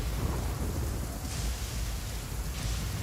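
Rain pours steadily with low rolling thunder during a thunderstorm in the video game Genshin Impact, a dense, continuous wash of downpour with deep rumbles underneath and no talking.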